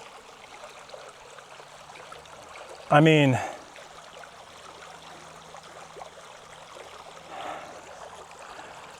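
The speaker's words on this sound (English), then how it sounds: "Look at this creek." Creek water flows with a steady, soft rushing wash throughout, and a voice briefly speaks close by partway through.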